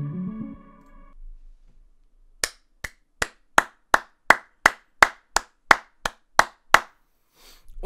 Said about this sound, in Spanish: Un aplauso para este álbum, señores,